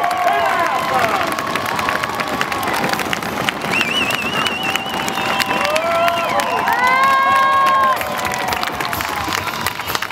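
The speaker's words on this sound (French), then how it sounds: "Il mérite les applaudissements que vous lui donnez aussi en saddle." A rodeo crowd cheers and applauds a French rider at a saddle bronc event, a broad wash of clapping and shouts under a loud announcer's voice, with whistles and rising shrieks cutting through the noise throughout.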